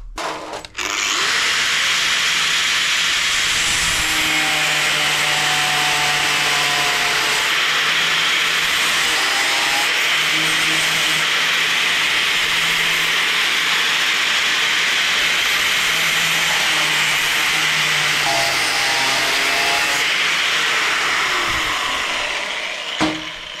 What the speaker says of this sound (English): So to the grinder.